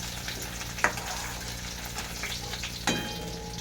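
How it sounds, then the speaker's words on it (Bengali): Chopped garlic fries to a reddish brown in oil, sizzling and crackling steadily in a pan, with a couple of sharp clinks from stirring. "রসুন কুচি আমার লালচে ভাজা হয়ে গেছে"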